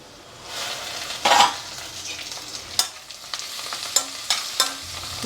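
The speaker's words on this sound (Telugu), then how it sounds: "ఉల్లిపాయ ఏగుతుంది చూద్దాం ఒకసారి తిప్పుదాం" Onion frying in a pan for a ridge gourd curry, a constant sizzle broken by several close, sharp spoon scrapes and stirring knocks against the pan.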